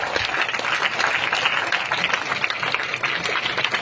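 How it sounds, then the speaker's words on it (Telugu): An audience at a school event claps loudly in a dense, sustained burst of applause that stays steady and close, with no speech on top. "గట్టిగా క్లాప్స్ కొడుతూనే ఉండండి"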